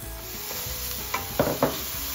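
Ground coconut masala fries and is stirred in a pan for a lobster curry, a steady sizzle with a few louder scraping stirs near the end, no talking.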